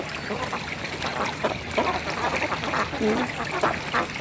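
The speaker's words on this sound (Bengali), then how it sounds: "এখন পুরা পুকুরটাই হাঁস ছড়াই ছিটায় গোসল করতেছে" A flock of ducks bathes across a village pond with nearby quacks and honks over a constant wash of splashing water, all close and busy.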